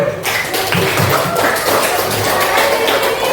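Applause from a small classroom group during a learning-styles workshop session, a burst of claps and taps that settles into a steady busy patter, with a faint voice underneath.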